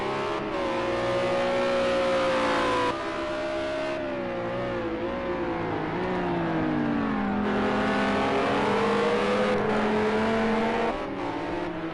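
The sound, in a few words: GT3 race cars at Algarve in sim racing video game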